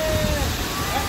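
A waterfall roars from just behind it, a dense, unbroken rush of water that fills the moment loudly and evenly.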